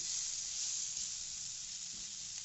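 Cauliflower sautéing in a pan for a vegetarian dish, a steady bright sizzle and hiss that stays even throughout, with no talking.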